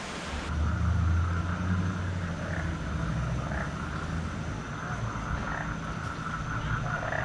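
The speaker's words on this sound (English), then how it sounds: "I'm sure you can hear those frogs." A chorus of Colombian frogs croaks continuously at night in San Gil, many overlapping calls forming a steady, rhythmic din with some wind-like rumble underneath.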